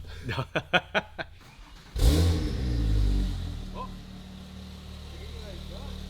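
A Porsche 911 Turbo engine cranks in a few quick pulses, then catches with a loud roar and settles into a steady, low idling rumble.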